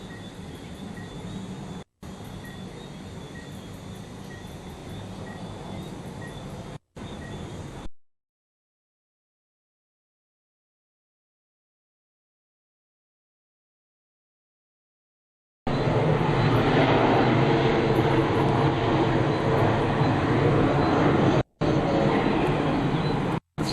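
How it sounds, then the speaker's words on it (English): An Air Jamaica Airbus A310 landing at Montego Bay, heard as a steady jet roar, with a long stretch of silence partway through before the loud engine noise returns. "Landing gear is down. They're about 20 feet over their landing."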